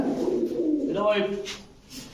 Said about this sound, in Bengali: পাকিস্তানি কবুতর